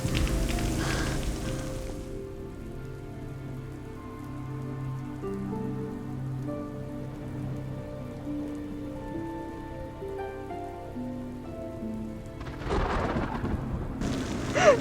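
Heavy rain pours with rolling thunder, loud bursts of downpour at the start and near the end framing a quieter stretch where soft music plays over the steady patter.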